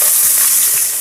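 Cumin and chopped onion frying in a pan give a dense, bright sizzle that stays steady and close for the whole moment, with no voices.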